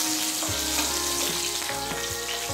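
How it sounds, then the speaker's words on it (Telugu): Green chillies fry in hot oil in a pan, giving a loud continuous sizzle and crackle with brief stirring scrapes, close up and without any talk. "పచ్చిమిర్చి, వేయించాలి."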